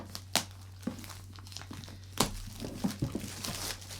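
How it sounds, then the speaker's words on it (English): Plastic shrink wrap is crinkled and torn off a small, heavy Pirate Borg starter set box in a quiet room, with a few sharp crackling bursts and softer rustles between them. "let's get rid of the plastic and open the box"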